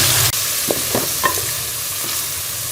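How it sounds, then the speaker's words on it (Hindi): Chicken frying with garlic in a pan, a steady soft sizzle with several light stirring scrapes, close and moderately quiet, no voices. "चिकन का कलर चेंज होने तक इसे भून लेंगे।"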